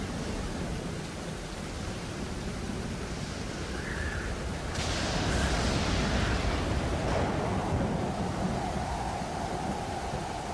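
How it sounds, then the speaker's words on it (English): A storm with rain and thunder in the survival video game Stranded Deep, played in hardcore mode, makes a steady, dense roar of downpour throughout, swelling louder midway with a low rumbling undertone. "When's the storm gonna end, bro?"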